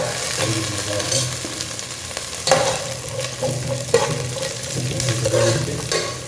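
Five garlic cloves fry in a village-style fish head curry pan with a loud, continuous sizzle. Stirring scrapes and clatters through it, with no talk.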